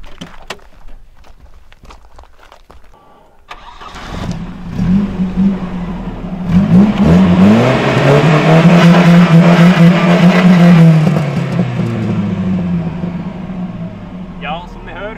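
A Volvo car engine cranks and catches, then revs up and holds a loud, rising roar before easing off, with voices talking over it.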